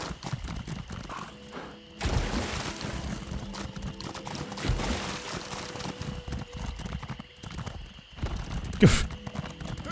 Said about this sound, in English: Hey, my horse goes too fast.